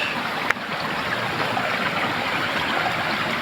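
Clear stream water running over rocks in a rural channel beside rice fields, a broad steady rush and babble with one brief knock near the start, close and alone.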